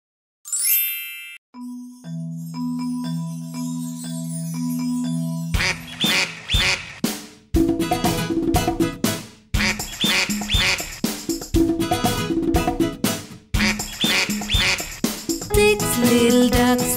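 Cartoon-style duck quacks in a children's nursery rhyme song about six little ducks, with tinkling chime notes and sung music; the quacks land rhythmically over a bright, loud backing track.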